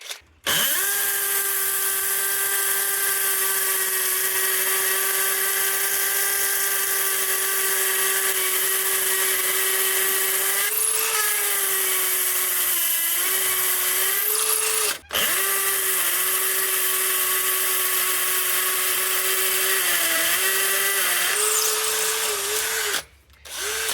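A Bosch 18V cordless drill driver (GSB 18V-21 hammer drill or GDR 18V-160 impact driver) drives screws with a loud, steady, close motor whine that runs almost continuously, broken by two brief stops.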